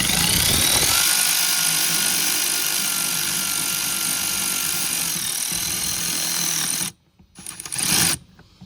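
Power ratchet in forward running down a bolt on a Chevy Tahoe during a water pump repair, a steady loud whirring drone for several seconds, then a pause and a short final burst.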